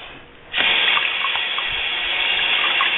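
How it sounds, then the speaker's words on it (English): Water gushes from a tap as an American Girl doll's hair is rinsed, starting abruptly after a brief quiet moment and then running as a loud, steady splashing stream close by. "I'm just going to rinse it in here"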